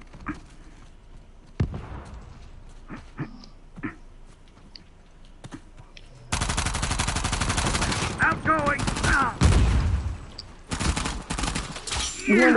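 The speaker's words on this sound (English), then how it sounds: "They're shooting at me." Video game Uncharted: scattered single shots and clicks at first, then dense, loud automatic gunfire erupting into continuous rattling bursts and heavy impacts, with game voices shouting under the firing.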